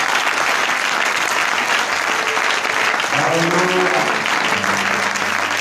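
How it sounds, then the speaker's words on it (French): Warm applause from a church congregation celebrating a family, a dense, loud wash of clapping from start to finish, with a voice calling out briefly over it. "Acclamons le Seigneur cette famille"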